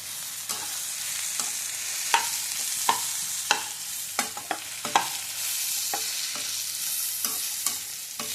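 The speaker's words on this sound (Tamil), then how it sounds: "உதிர்த்து வச்ச வடையை கொட்டிக்கலாம்" Crumbled vada tipped into a pan with chili powder and stirred, a steady soft sizzle under a series of sharp spoon scrapes and clinks at irregular intervals, close by with no talking.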